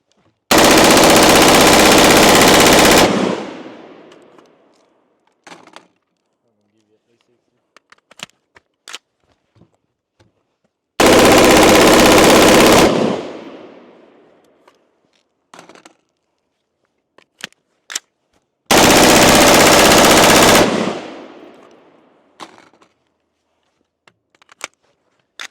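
A Colt M4 with an 11.5-inch barrel fires three long, rapid full-auto bursts, each several seconds long and very loud. Quiet gaps follow each burst, broken by faint clicks and clatter.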